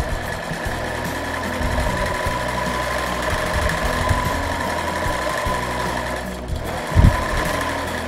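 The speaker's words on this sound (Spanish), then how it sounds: "solamente estamos cosiendo el asa" Sewing machine stitching the handle of a beach bag, a steady, close mechanical whir with a fast rhythmic knocking that runs for eight seconds, with a brief pause and a clunk near the end.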